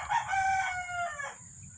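A gamecock rooster named Bole crows once, a loud, close, drawn-out cock-a-doodle-doo lasting over a second before it fades. A low rumble of background noise sits underneath.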